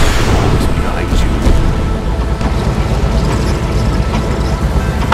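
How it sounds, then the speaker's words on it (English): Dense, continuous rumbling explosions from battles in the real-time strategy game Red Alert 2 with the Mental Omega mod, a loud, steady wash of booms with no voices. "I love the sound of explosions in the distance."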